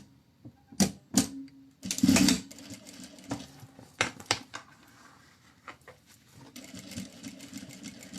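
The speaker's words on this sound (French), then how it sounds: "Et je vais venir les surpiquer de chaque côté." A sewing machine topstitching the seams of a fabric bag, with short bursts of rapid mechanical clatter broken by pauses and small clicks, close and clear, without any talk.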